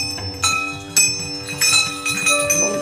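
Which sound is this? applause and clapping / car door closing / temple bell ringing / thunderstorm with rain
temple bell ringing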